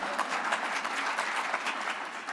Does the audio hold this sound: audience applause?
yes